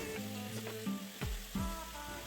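Chopped onions and tomatoes sautéing in a pan for a chicken gravy, a soft sizzle with scraping spatula strokes and a few clanks of utensil on metal, no talking.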